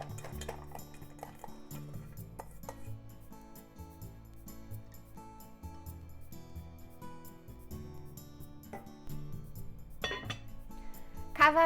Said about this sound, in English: Cover with the lid and bring it to boil over medium to medium-high heat.